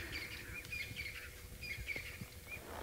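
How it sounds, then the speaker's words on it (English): Many wild birds call at once during an outdoor safari setting, with faint high chirps and whistled tweets repeating at irregular intervals, distant and soft over a low ambient rumble, with no voices. "You hear all those bird calls around us? We're surrounded by a huge array of birds right now."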